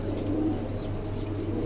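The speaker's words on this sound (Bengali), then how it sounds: "এখানে একজোড়া ফান্টেল আছে" A pair of fantail pigeons coos softly close by, a low continuous murmuring over steady background hum, with no talking.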